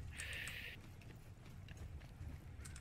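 Horse hooves in the video game Conqueror's Blade, a quick clip-clop of galloping under a brief high tone and background game noise.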